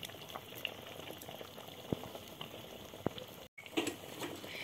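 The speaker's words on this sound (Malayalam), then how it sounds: "എന്നിട്ട് ഒന്നുകൂടി തിളക്കട്ടെ" A pot of tomato kurma curry bubbling on the stove, a steady close simmer of dense small bubbles with occasional sharper pops and a brief drop-out near the end. No one speaks.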